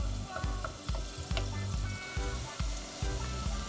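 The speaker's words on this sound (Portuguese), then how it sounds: "Vou pôr o azeite e a folha de louro. Vou deixar refogar um bocadinho." Olive oil and a bay leaf sauté in a pan on the stove, giving a steady close sizzle broken by regular soft thumps of stirring.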